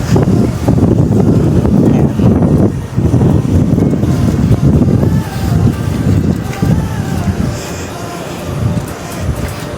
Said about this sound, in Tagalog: lakas lang talaga ng hangin